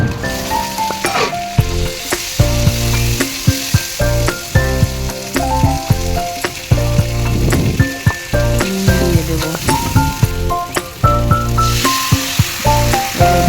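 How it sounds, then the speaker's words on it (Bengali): Chopped tomato added to fried onions in a kadai with cumin, dried chilli and bay leaf: loud, close, constant hissing sizzle broken by repeated sharp scrapes and knocks of a spatula stirring against the pan, no talking. "পেঁয়াজগুলো ভাজা হয়ে গেছে, এবার আমি টমেটোটা দিয়ে দেবো।"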